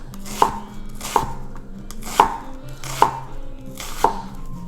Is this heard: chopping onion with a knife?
yes